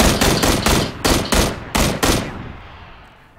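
Loud bursts of gunfire from a PUBG battle royale match, seven or eight sharp close shots in quick rhythm over about two seconds, then fading into a trailing echo.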